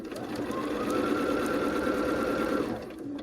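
A sewing machine runs steadily for nearly three seconds while stitching a quilt seam for a Bear Paws in the Snow quilt, its motor hum and rapid needle chatter close and continuous before stopping briefly near the end.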